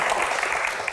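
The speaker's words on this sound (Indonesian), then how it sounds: "Tepuk tangan, Pak Supratman." A short burst of audience applause at a question-and-answer event, a dense, even patter of many hands.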